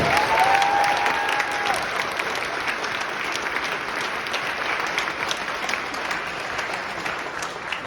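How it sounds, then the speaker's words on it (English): An audience applauds the cast after a play reading at a talkback, a steady, dense wash of many hands clapping at even loudness throughout, with no talk over it. "So I think we should give them another round of applause."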